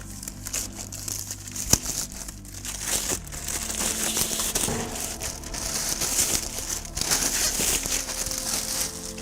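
Plastic dust collector bag being pulled down over a concrete dust collector vacuum, giving continuous close crinkling and rustling with a few sharper crackles and a brief knock, no talking.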